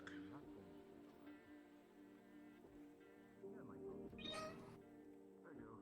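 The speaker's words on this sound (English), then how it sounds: "I've heard a lot of meows in my time, and that was by far one of the strangest." Strange, wavering cat meows and caterwauling come through quietly in an online roleplay hangout, several drawn-out calls spread across a few seconds, with faint voices in the background.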